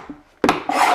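An oscillating sander rasps against heart pine flooring, a brief scraping burst that starts abruptly and rubs on loudly and close for about half a second.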